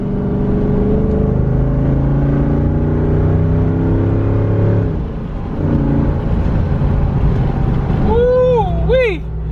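A 2021 Jeep Wrangler Rubicon with the 392 V8 HEMI roars loudly and steadily, engine pitch climbing through gears with a brief dip midway, then a few sharp whirring pitch sweeps near the end.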